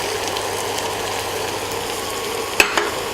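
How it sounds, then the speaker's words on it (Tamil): Two medium onions, thinly sliced and salted, frying in a pan for a Kerala-style mushroom gravy; a loud steady sizzle with one quick clack of a spoon near the end, no talking. "இது நல்லா கோல்டன் ப்ரௌனாக கொஞ்சம் நல்லா ஃப்ரை ஆகணும்."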